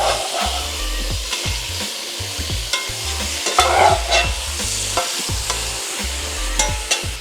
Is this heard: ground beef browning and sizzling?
yes